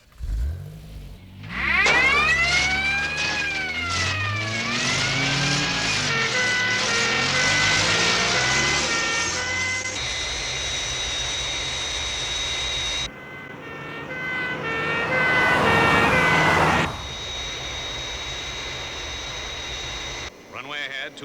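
The Fireflash airliner comes in to land in Thunderbirds with crash tenders standing by, its loud engine whine sweeping up and down in pitch before cutting to a steady high drone, with voices talking over it.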